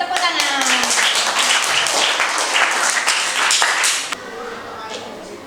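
Children in an elementary madrasa maths class clap together for their classmates' group, a dense burst of hand claps lasting about four seconds before cutting off, with a voice audible over the start.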